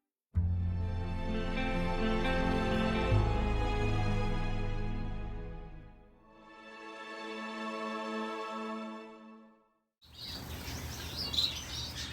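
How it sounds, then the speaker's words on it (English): Finches and small parrots in an outdoor aviary chirp in dense, layered bursts, two long stretches of bright twittering split by a short lull before a sharper, noisier final burst. "I've got about 20 different species of finch and small parrots"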